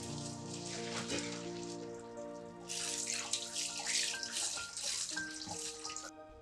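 Water poured off 400 grams of boiled macaroni while draining it in a kitchen: a continuous splashing stream that swells louder partway through, with soft music playing underneath.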